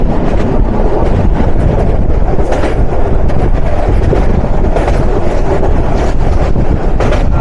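A moving local commuter train on the Rangpur to Birol line in Dinajpur rumbles loudly and continuously with rattling wheels and heavy wind buffeting close to the microphone.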